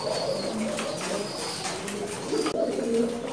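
Pigeons coo repeatedly in a pigeon loft, low rolling calls overlapping one another at close range, with a steady background murmur of many birds and no talk.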